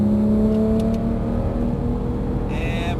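A Porsche 911 GT3 engine drones steadily from inside the car on a track straight, a sustained loud tonal whine holding pitch, with a brief higher rasp near the end.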